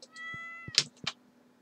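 A cat meows in the farming video game Stardew Valley, a clear, drawn-out mew followed by a few short chirpy calls and soft clicks.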